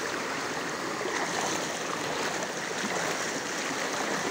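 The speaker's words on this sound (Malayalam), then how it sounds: "നല്ല ഒഴുക്കുണ്ട് ഇവിടുന്ന് അങ്ങോട്ട്." Strong floodwater flows across a road in a steady, dense rushing hiss. The sound is close and unbroken for several seconds, with no talk.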